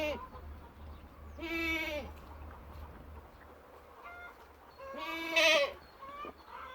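Two loud, wavering bleats from a young goat on a farm, newly placed in a flock with hens, a few seconds apart, with faint clucking and background noise between them.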